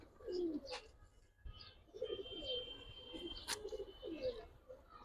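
Giribaz and coloured pigeons coo softly in a quiet place, giving a string of low, rolling coos with a few faint chirps mixed in.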